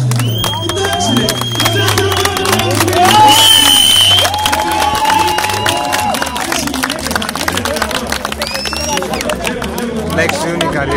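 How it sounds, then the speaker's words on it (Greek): Spectators clap and cheer loudly for Petropoulos' Opel GT, a dense, steady crowd noise with whistles and shouts mixed in, while a commentator talks over it. "Πολύ δυνατό χειροκρότημα και για το Opel GT του Πετρόπουλου"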